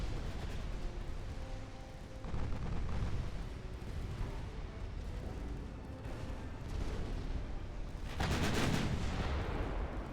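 Battleship naval gunfire in the video game Ultimate Admiral: Dreadnoughts, a steady roar of distant heavy booms and rumbling with a louder burst of salvo fire near the end, no talking.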